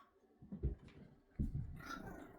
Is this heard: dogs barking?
yes